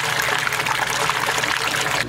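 An LG high-efficiency top loader washing machine draining, a steady rushing trickle of water pouring through the drum, close and continuous, cutting off at the end.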